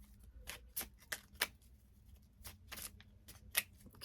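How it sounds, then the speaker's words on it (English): Several quick riffling bursts of a deck of cards being shuffled, crisp and close, separated by short quiet pauses. "Okay, one more shuffle here."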